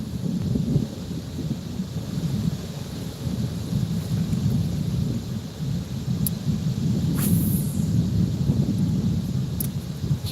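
Rolling thunder from an approaching storm over a fishing spot, a steady low rumble sustained throughout with rain and wind noise mixed in, fairly loud and close, no talking.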